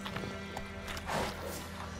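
Hooves of Roach, a horse in The Witcher 3, clip-clop at a gallop in a quick, steady beat, close and clear, with a short whinny partway through.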